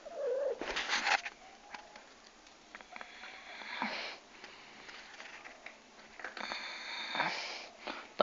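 A family cat meows several times, with short bursts of cat calls and sniffing spread across a few seconds, fairly close, with no talking.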